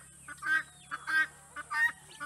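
Ducks and other poultry on a farmyard near Kpalimé, Togo, call in a run of nasal honks and quacks, several bursts in quick succession, fairly close with no talk.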